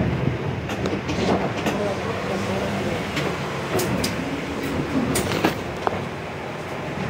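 A tram rolls between stops in a Russian city, a steady rumble of wheels on rail with faint clicks and rattles, loud and close from inside the car with no talk over it.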